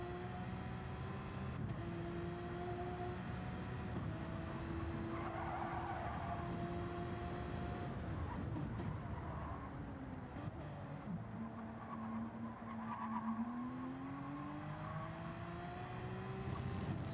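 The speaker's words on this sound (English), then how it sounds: "watch Phil, our hooligan, in his Porsche, doing some practice around the track a little bit" A Porsche race car lapping the Daytona track in a racing video game, its engine tone rising and falling through gear changes, with tire squeal over a steady background of other cars, fairly quiet overall.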